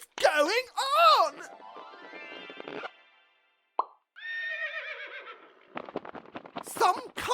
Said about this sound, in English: Winged horse has just birthed itself from the headless corpse of Medusa